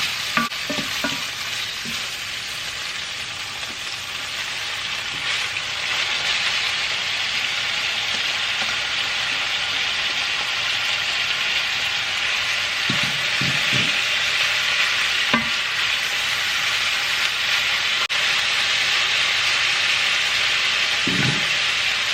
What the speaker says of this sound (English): I'm gonna go ahead add in my cabbage and let the cabbage just go ahead and shrink before I add my seasoning